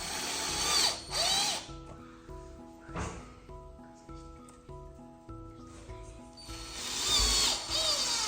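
A power drill drives screws underneath a decorative mirror being mounted on a wall. Loud whirring bursts come at the start and end, with quieter intermittent tool noise between them.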